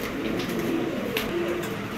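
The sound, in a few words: pigeons cooing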